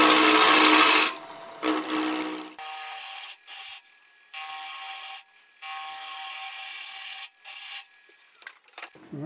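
A wood lathe turns an inside-out ornament in bursts, a loud bright whirring spin at first, then repeated on-off runs of tonal humming with short silent gaps between them, close by and without talk.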